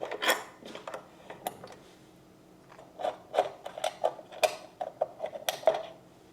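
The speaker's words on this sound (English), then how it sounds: "I'm going to take the pot off of the pickguard, which I'm using one of these Music Nomad spanners here." Metal spanner clicks and scrapes as it loosens a potentiometer nut on a guitar pickguard, giving a string of close, sharp ticks and rattles in two bursts separated by a quiet pause.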